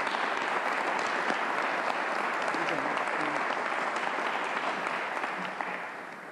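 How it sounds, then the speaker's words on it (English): An audience at the Freedom Forum political conference gives sustained, dense applause, steady and loud throughout before tapering off at the end. "I think they deserve a round of applause for that."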